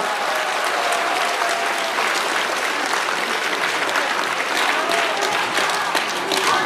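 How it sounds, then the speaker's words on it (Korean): A large audience at a leadership training event gives loud, sustained applause to welcome a speaker, with dense, even clapping throughout. "박수로 환영해 주시기 바랍니다."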